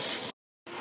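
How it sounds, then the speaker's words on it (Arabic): Garlic and ginger fry in a pot for a Kuwaiti-style chicken majboos, a loud steady hiss that cuts out completely for a moment and then returns just as strongly. "الحين نحط الثوم والزنجبيل نحمسهم شوي"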